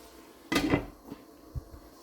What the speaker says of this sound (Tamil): இப்போ நான் ஒரு 2 நிமிஷம் இதை மூடி போட்டு மூடி விட போகிறேன்